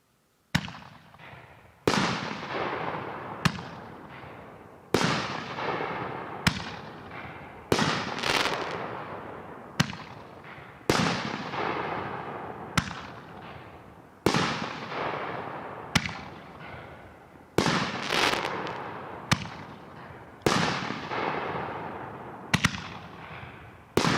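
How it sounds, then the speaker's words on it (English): A Home of the Brave 3-inch 9-shot consumer firework rack fires outdoors, a string of loud sharp launch thumps and booming aerial bursts spaced every second or two, each with a crackling decay, with no talk. "Home of the Brave, a 3-inch 9-shot rack, Great Grizzly 2-1 9-shot"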